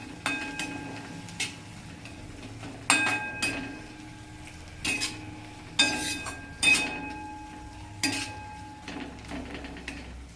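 Coriander powder and other spices stirred in a pan, a spoon scraping and knocking against the metal in a string of sharp clinks and taps spaced a second or two apart, close and fairly quiet.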